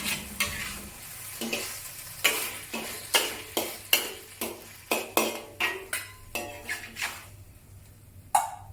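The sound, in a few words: stirring cornstarch slurry into pork stir-fry sauce in a wok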